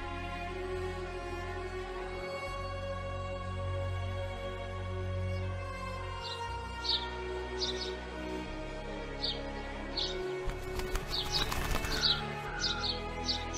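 Wing flaps from a bird over a steady low hum with tonal music, the fluttering growing busier in the second half with a burst of rustling near the end and faint chirps scattered throughout.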